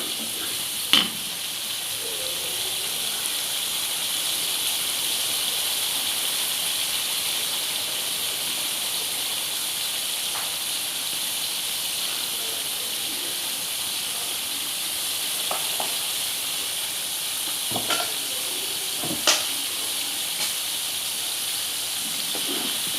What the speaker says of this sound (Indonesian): Kita ongseng dulu bumbu-bumbunya sampai harum